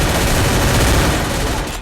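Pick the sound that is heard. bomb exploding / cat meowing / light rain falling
bomb exploding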